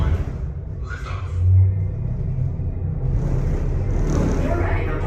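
Deep, steady rumble of a space elevator liftoff on the Space 220 ride aboard the Centauri space station, a low continuous drone that swells briefly and holds, with a faint airy hiss layered above.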